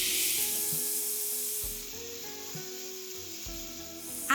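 Chopped spinach cooks in a pan with red chilli flakes for a spinach lentil soup, giving a steady close sizzle and hiss with a few soft stirring scrapes, no talking.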